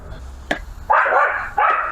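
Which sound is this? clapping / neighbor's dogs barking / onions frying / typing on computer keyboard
neighbor's dogs barking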